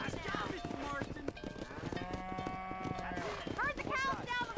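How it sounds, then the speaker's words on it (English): Cattle lowing during a cattle drive down a road in Red Dead Redemption, several drawn-out moos overlapping with hoof clip-clop and ranch ambience, mixed under a man's speech. "Herd the cows down the road."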